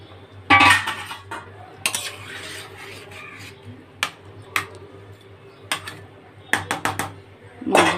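Fish pieces dropped into a pot of simmering fish curry with potatoes, a series of sharp clinks and knocks of utensils against the pot at irregular intervals over a low steady hum, close by.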